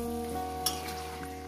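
Flat beans and a ground spice paste, thinned with water, sautéing in a pan for a fish curry, a faint steady sizzle under a constant low electrical hum, with one brief clink of a utensil.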